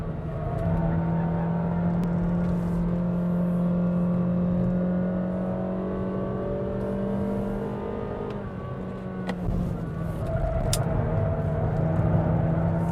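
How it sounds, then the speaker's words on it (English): Honda City 1.5 DOHC engine pulling hard in second gear on a mountain climb, a steady loud cabin drone with rising revs, a brief dip near the end before the engine note picks up again. "It was holding it in third, so I shifted it down to second this time."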